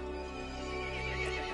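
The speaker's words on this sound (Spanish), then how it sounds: "El caballo se enfureció y llamó a las otras criaturas." An enraged horse neighs in Resident Evil Village: a loud, close, strained whinny that holds steady for over a second and swells near the end, with no voices.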